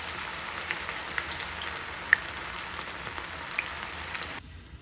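Cauliflower pieces for gobi 65 deep frying in hot oil: a continuous fine crackling sizzle with scattered sharper pops, close and steady, cutting off near the end.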